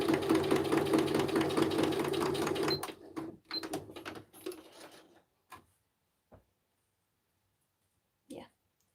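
A sewing machine stitches sequins onto fabric scraps, running in a steady close whir for a few seconds before stopping, followed by scattered clicks and handling sounds.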